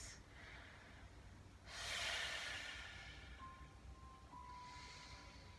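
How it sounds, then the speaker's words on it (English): During a yoga practice, a deep, slow breath rushes in and out as a soft, airy hiss that swells then fades, close to the microphone but quiet, followed by a faint thin tone. "Breathing deeply,"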